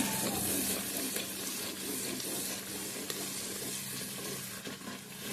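Curry leaves fry in hot oil for a Mangalore-style fish curry, giving a dense, steady sizzle that fills the whole short stretch without pause.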